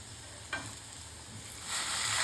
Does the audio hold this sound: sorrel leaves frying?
yes